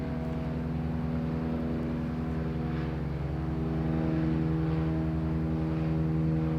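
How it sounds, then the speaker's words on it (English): An airplane passes overhead as a steady, loud, droning engine hum with a low harmonic rumble that swells slightly toward the end, with no talk over it. "There's just a plane going over my head right now."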